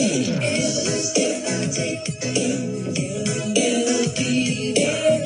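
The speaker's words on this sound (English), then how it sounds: "The drum beat sounds like this." A steady, punchy late-1980s drum beat drives along with a regular rhythm, layered under other music throughout.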